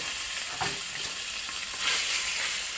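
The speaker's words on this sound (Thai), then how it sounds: "ผัดพริกแกงค่ะ ใส่น้ำมันไปเลยนะคะ พอให้หอมๆ แล้วก็เรา เราก็ใส่หมู ติดมันลงไปนะคะ" Fatty pork stir-fried with green curry paste in oil makes a continuous close sizzle with occasional scraping from stirring.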